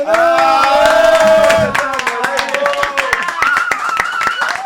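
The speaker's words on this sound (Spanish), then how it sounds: "¡Aplaudimos!" An audience applauds on a live cumbia music stream show, first in a dense burst of clapping that thins into scattered, sharp individual claps, mixed with strong tonal voices or music.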